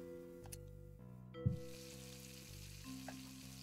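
Fish sizzles on a hob in the cooking game PlateUp!, a low, steady frying crackle running under simple looping game music with a brief thump midway.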